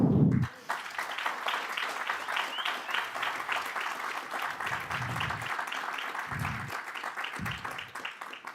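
A steady round of applause from the audience at a stakeholder forum, moderately loud and continuous, with a few low murmurs of voices breaking through beneath the clapping.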